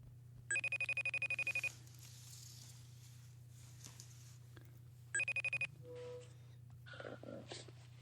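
A telephone rings into a live broadcast with two bursts of rapid electronic trilling, a longer ring followed after a pause by a shorter one, clear against a low steady hum, with faint noises afterward.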